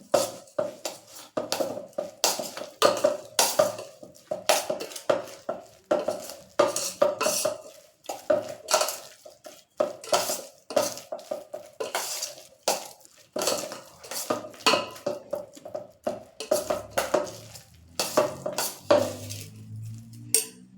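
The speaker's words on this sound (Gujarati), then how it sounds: "એડ કરી અને બરાબર મિક્સ કરી લેશું." A spoon stirs spice masala into an instant mango and green chili pickle in a metal bowl, scraping and clinking rhythmically and repeatedly at close range, with no voices.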